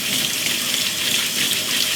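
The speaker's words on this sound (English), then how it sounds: "Now I'll drop these potatoes in the sink and we'll give them a good scrub." Potatoes scrubbed under running water in a kitchen sink, a loud, steady rushing stream from the tap with splashing, close and continuous.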